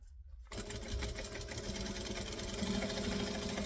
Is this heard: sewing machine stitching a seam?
yes